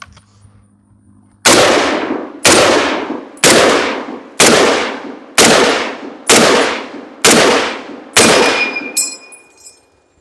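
Eight sharp rifle shots crack out at a steady pace, about one per second, each striking a dirt berm and steel target and trailing off with falling debris, with a faint metallic ping after the last shot.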